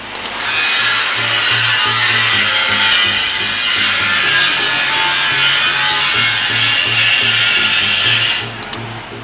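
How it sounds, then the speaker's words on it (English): Stick welding with a 3.2 rod on the root pass of a pipe saddle tee, a steady close crackling sizzle with a low buzz throughout, cutting off near the end. "i-welding natin ito. I-rootpass muna natin itong ating saddle."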